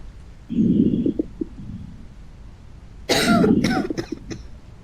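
A person in the video game Quarantine Zone coughs twice, a short muffled cough followed by a louder burst of harsh coughs with breathy gasps, against a quiet background.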